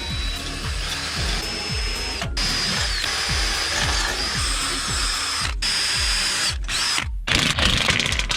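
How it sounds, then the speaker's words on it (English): Power drill boring holes for heat exchanger brackets on a supercharged AMG Mercedes, a steady high whine with repeated bursts of the motor spinning up and down, close and loud with no talk. "marked where the holes go, drill those 4 holes, and then screw it in place"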